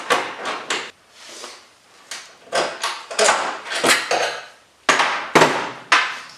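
A wrench works a seat bracket bolt loose on a Jeep CJ7, giving repeated close ratcheting scrapes and metallic clicks in an uneven rhythm with short pauses between turns.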